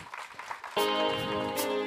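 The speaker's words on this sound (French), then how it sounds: "Sous vos applaudissements" Studio audience applause breaks out in a broadcast studio during a live tribute show to a singer, sudden and dense after a quieter opening, sustained clapping filling the room.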